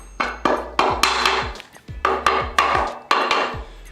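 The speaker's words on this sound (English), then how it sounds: "Good idea to have a rubber mallet. Once you get this in place, you can kind of tap it in place." Rubber mallet tapping an engine part into place during a Cummins 4BT diesel swap into a Chevy K1500, about ten sharp, close knocks in uneven rhythm, some in quick pairs, with no talking.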